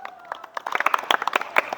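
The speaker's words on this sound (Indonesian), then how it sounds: "tepuk tangan dulu untuk kelompok 1" Students in a basketball class applaud a group, brief scattered claps building into quick uneven clapping over under two seconds, close and moderately loud.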